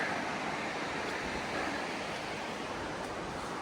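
A mountain creek flows beside a trail up Table Mountain in Castle Wildland Provincial Park, Alberta, giving a soft, even, continuous rush of water with no talking.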